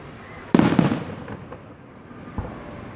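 Independence Day fireworks bursting at a town display: one sharp loud crackling blast near the start, then fading rumble and a softer distant pop later, with no talk.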